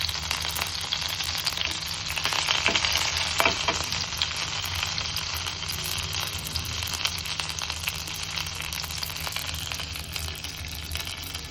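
Curry leaves frying in hot oil on a tawa, a steady crackling sizzle with brief louder spits and pops, close up and with no voices.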